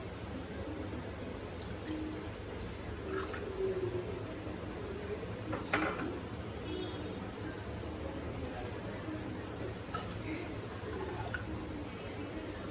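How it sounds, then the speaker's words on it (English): Continuous bubbling and gurgling of water in a pot with scattered small pops, steady and close, no talking. "as you can see, the bubbles are coming, so our water is getting boiled."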